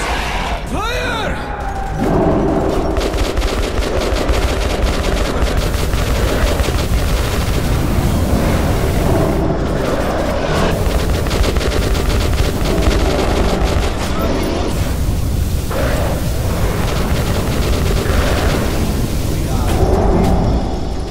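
Gunfire in the Metro 2033 Redux video game, loud sustained bursts of shots with rumbling blasts through most of the stretch, a voice shouting briefly at the start.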